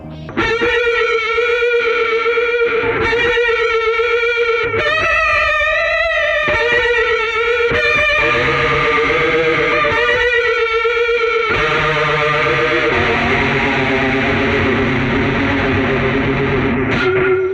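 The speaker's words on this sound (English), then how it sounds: "let's take this a step further and add some delay" Electric guitar notes and chords played through a delay pedal, each phrase trailing into repeating echoes, fairly loud and steady with a washy tail near the end.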